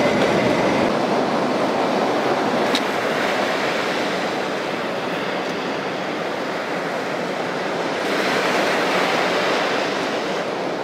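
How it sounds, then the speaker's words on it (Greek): Rough, swollen sea waves crash and wash continuously onto the shore, a loud, dense roar of surf and foam with no clear breaks, and wind blowing through it. "Η θάλασσα είναι πολύ φουσκωμένη."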